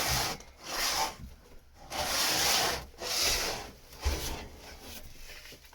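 A power sander works over a wooden surface in a workshop, its abrasive rubbing hiss rising and falling in steady strokes as it moves along the top, fairly close and with no talking.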